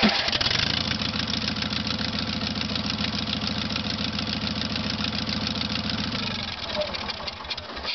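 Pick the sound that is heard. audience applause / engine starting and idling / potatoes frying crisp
engine starting and idling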